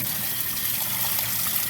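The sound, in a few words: water flowing into a pressure cooker tank through an opened valve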